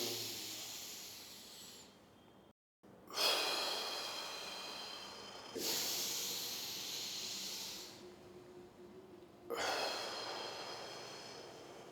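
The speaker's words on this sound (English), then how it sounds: "So I'm breathing to the maximum." A person takes deep, maximal inhalations, long hissing intakes of air lasting several seconds each, close and fairly loud, separated by brief pauses, with no talking.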